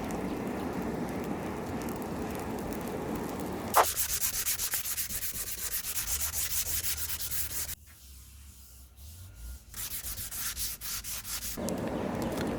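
Sandpaper rubs steadily against a store-bought hickory axe handle, stripping its lacquer finish, a continuous near scratchy hiss with changes in stroke texture, briefly quieter midway, without talk.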